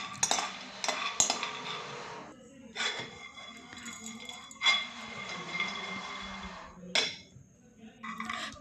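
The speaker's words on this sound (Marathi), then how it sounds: "एकदम मीडियम फ्लेमवरती आतपर्यंत छान खरपूस असे भाजले जातील असे हे आपण शेंगदाणे भाजून घ्यायचे" Peanuts dry-roasting in a pan over a medium flame, stirred with a metal spoon that gives repeated clinks and scrapes against the pan at irregular intervals, fairly close and moderately loud, with no talk.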